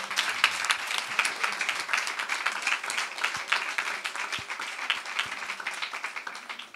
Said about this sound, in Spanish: Les pido ahora mismo este aplauso